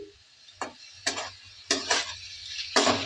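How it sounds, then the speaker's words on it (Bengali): Potatoes, capsicum and tomato are stir-fried with spices in a pan, with a few distinct scraping stirs and clinks against the pan and a soft sizzle between them, close and fairly quiet. "মশলাগুলোর সাথে আলু ক্যাপসিকাম টমেটো সব একসঙ্গে ভালোভাবে কষিয়ে নিতে হবে"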